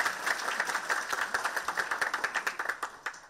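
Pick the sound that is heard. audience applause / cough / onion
audience applause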